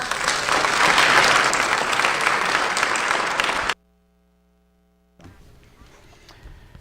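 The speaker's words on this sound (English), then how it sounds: "would you please give him a round of applause" Loud applause rings out at an election night event after Tom Corbett's concession speech, a dense sustained clapping crowd for about four seconds that cuts off abruptly, followed by a low mains hum and then faint room noise.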